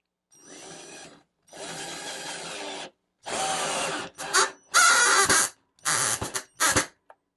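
An Altocraft 20V cordless drill drives a screw into wood without a pre-drilled hole, a close whirring motor in several bursts of rising effort that grow louder and choppier as the screw tightens, with pauses between.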